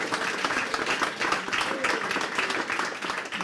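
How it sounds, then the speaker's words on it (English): Audience applause at a live talk in Cambridge, a dense steady patter of many hands clapping at full strength, with a little crowd noise, lasting the whole stretch. "Can everyone give him a round of applause"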